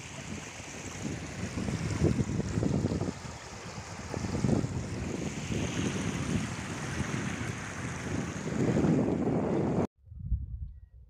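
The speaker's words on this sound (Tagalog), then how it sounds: "Malakas ang hangin." Strong typhoon wind over rice fields in the countryside roars and buffets the microphone in gusts, loud and continuous, then cuts off abruptly near the end.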